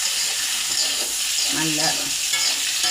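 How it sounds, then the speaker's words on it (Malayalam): Chopped onion added to potatoes frying in a pan gives a steady sizzle with stirring scrapes, close and continuous, and a voice speaks briefly over it. "അപ്പം ഞാൻ ഉള്ളി അരിഞ്ഞ് വെച്ചത് ഇട്ട് കൊടുക്കുക."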